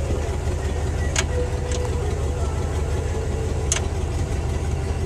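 A 1966 Cadillac Fleetwood Brougham engine idles steadily with a low, even rumble throughout, while a few faint clicks sound over it.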